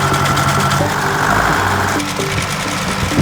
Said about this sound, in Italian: il padre utilizza il trattore